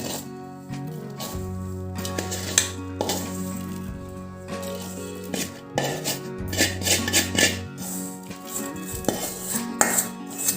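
Semolina filling scraped and scooped with a metal spoon into a large vessel, giving repeated close clinks, scrapes and rubbing of metal on metal over steady background music, with no talking.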